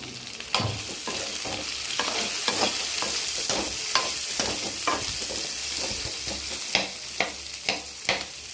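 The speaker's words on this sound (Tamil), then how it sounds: "இதில் பூண்டு போடுறேன் இது நல்லா வதங்கட்டும்" Garlic, onion and mustard seeds frying in oil for a mild broad bean poriyal, a steady crackling sizzle punctuated by repeated sharp stirring clicks and scrapes, fairly close.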